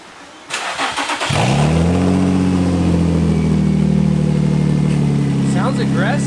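Nissan 350Z with open headers cranks, catches and settles into a loud, raspy idle with a few sharp revs near the end, close to the car.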